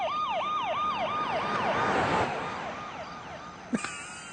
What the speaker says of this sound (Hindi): अबे बैकग्राउंड म्यूजिक नहीं है, पुलिस की सायरन है।